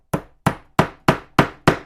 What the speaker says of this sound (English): we're going to take our hammer and we're going to, what this is doing is sizing the case